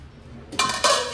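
Metal lid set onto a cooking pot, two sharp clanks in quick succession after a quiet moment, close by.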